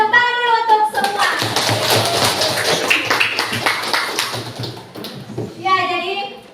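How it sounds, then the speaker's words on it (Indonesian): Students in a classroom clap for their classmates after a group discussion, a dense burst of many hands lasting several seconds, with children's voices and talk at the start and end. "Ya tepuk tangan dulu untuk semua."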